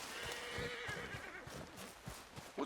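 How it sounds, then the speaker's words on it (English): A horse in Red Dead Redemption 2 whinnies with a long, shaky neigh up close, followed by soft hoof clops and snorting, fairly quiet overall. "What's wrong with this horse?"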